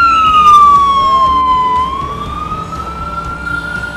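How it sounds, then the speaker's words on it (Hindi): A loud wailing ambulance siren in Mumbai sweeps slowly down and back up in pitch, close by, with traffic rumbling underneath. "जब भी एम्बुलेंस सायरन बजा के आता है, लाइट लगा के आता है"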